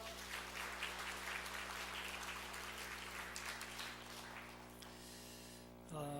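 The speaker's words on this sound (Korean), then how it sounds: "우리 다시 한번 하나님께 영광의 박수를 올려드립시다." Church congregation applauding together, a steady broadband wash of clapping held for several seconds over a low sustained hum, easing slightly near the end.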